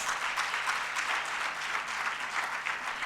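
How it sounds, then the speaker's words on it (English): An audience claps steadily through a fireside chat event, a dense continuous wash of applause at even loudness with a faint low hum underneath and no voices. "Let's give a big round of applause."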